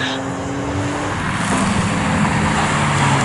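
A BMW M3 E46 GTR race car laps the Snetterton circuit in a 750MC Roadsports race, its engine a steady, loud roar whose pitch shifts as it passes nearby.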